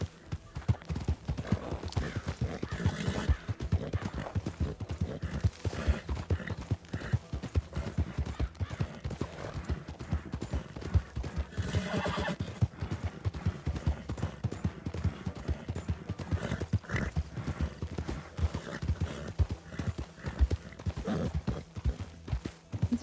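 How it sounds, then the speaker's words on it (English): Many horses trotting in the video game RedM with dense, continuous clip-clop hoofbeats, loud and close, with an occasional whinny in the mix. "I thought I heard a bunch of horses."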